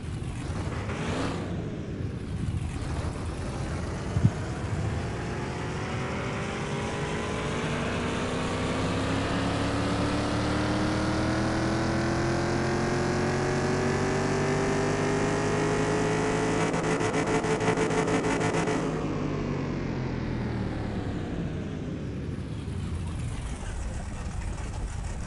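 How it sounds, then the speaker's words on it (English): A Ford GT40 engine in Car Mechanic Simulator 2021 revs steadily upward in pitch on a dyno for many seconds, holds near the top, then drops back to a lower drone; synthetic and continuous. "That's an interesting engine sound."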